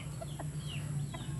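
Chickens clucking in a pen over a steady low hum, a few short soft clucks scattered across a brief moment, faint and somewhat distant.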